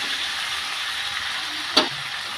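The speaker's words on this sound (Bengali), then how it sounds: "এবার সামান্য একটু জল আমি দিয়ে দেবো" Potatoes frying with spices in a pan give a steady close sizzle, broken by one brief sharp burst as a splash of water hits the hot oil, then the sizzle carries on.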